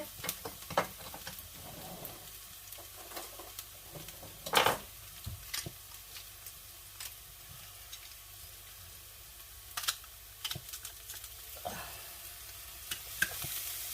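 Garlic goes into a hot pan with shallots, and a quiet sizzle runs underneath while sharp clicks and clatters of a spatula and pan break in at intervals.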